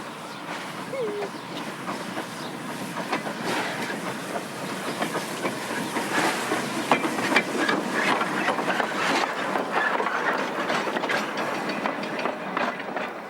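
A New Zealand steam locomotive hauls a train on a South Island line, its steady chuffing mixed with clattering wheels, hiss and rail clicks in a continuous, fairly close rumble.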